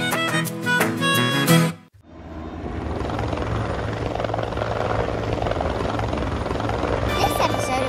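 Loud, steady whirring rotor drone of a cartoon helicopter in an episode of the animated series Bluey, running continuously for several seconds after a short burst of music and a brief drop to silence.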